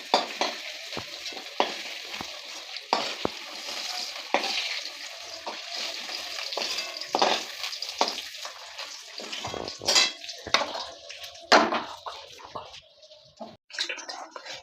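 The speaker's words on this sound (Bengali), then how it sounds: "এবার আমাদের আলুগুলো লাল লাল করে ভেজে নিতে হবে।" Potatoes frying in oil for a tilapia fish curry: steady hissing sizzle with scattered crackles and pops, occasional clinks of a stirring utensil, continuous and close throughout.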